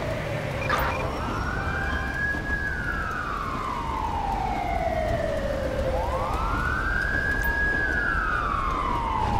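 In the video game GTA V, an emergency vehicle siren wails in two long, slow rising and falling sweeps, loud and steady over a constant engine and road hum, with no talking.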